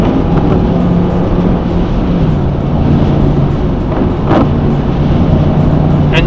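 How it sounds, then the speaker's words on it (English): A rear-wheel drive pickup truck drives through a snow storm, giving a loud, constant engine and road rumble with a steady roar that never lets up, and no one speaks. "driving a rear-wheel drive pickup truck, just gotta kind of feather that throttle a little bit"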